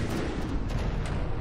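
Tank main cannon firing during a battle in the video game From the Depths, a dense, continuous wash of booming low rumble with heavy blasts running throughout the short stretch, loud and with no talk.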